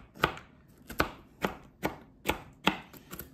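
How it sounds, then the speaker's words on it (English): Knife dicing food quickly on a cutting board during home breakfast meal prep, with about eight sharp, evenly spaced chops close up and no talking. "should just start like dicing them really fast"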